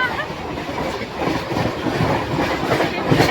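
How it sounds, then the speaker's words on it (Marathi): A passing train rumbles steadily with rail clatter close by, growing slightly louder toward the end, with no speech over it. "ट्रेन आले डिस्टर्ब करायला."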